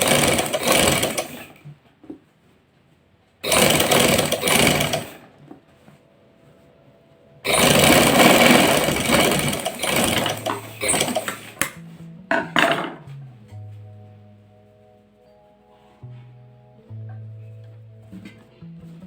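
Domestic sewing machine stitching a fabric strip (patti) in a home tailoring lesson, heard as three loud runs of fast whirring stitching separated by pauses, followed by quieter mechanical clicks and short hums of the machine.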